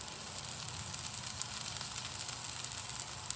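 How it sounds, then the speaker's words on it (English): Beijing beef sizzling in a hot pan, a steady, bright hiss of frying that carries evenly throughout with small crackles and no voices. "Get a nice sizzle on that."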